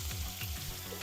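A cod fillet sears in a hot pan, giving a loud, dense, continuous sizzle with a faint crackle running through it.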